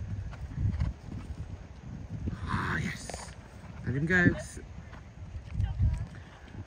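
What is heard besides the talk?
horse moving about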